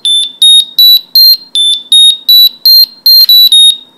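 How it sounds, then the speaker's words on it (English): A Metroboard Mini remote control emits a rapid series of loud, high electronic beeps in an even rhythm for battery calibration, close and clear with no talk. "Now made 3 downward beeps after the normal battery gauge beeps."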